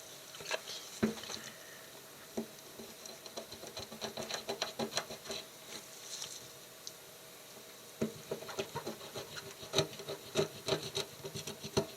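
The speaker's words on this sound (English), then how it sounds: "It already sounds like cutting bones." Knife cutting through the thick, elastic, slimy skin and bony flesh of a daggertooth pike conger in a kitchen, faint irregular crunching, scraping and rasping strokes with brief sharper clicks, close but quiet.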